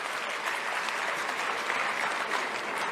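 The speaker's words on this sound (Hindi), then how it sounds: "एक बार प्रियंका जी के लिए जोरदार ताली बजाना बहुत ज्यादा जरूरी है।" A crowd at a Congress political rally in Kanpur claps loudly and continuously, a dense, even burst of many hands for about three seconds with no voices over it.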